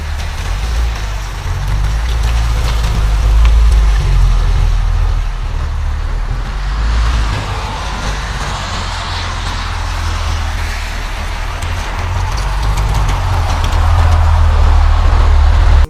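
A 1995 Porsche Carrera 4's 3.6-liter flat-six with Vario-Ram intake drones steadily in the Need for Speed Porsche Unleashed racing game, a loud low engine rumble that swells and eases slightly throughout.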